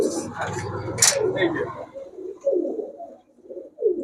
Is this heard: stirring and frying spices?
no